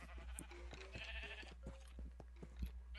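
A sheep in the Minecraft video game bleats faintly a few times in a quiet scene, under a low steady hum and scattered soft clicks.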